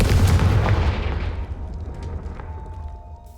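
Confringo fire spell explosion in Hogwarts Legacy, a heavy booming blast at the start with a deep rumbling tail that slowly fades away over a few seconds.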